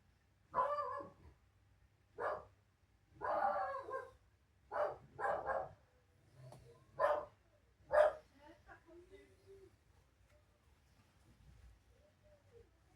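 A dog barks in a series of separate sharp barks, mostly single and some doubled, at fairly close range in a quiet room, followed by softer whimpering sounds.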